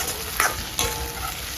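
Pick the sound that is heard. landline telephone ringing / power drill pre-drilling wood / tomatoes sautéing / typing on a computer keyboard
tomatoes sautéing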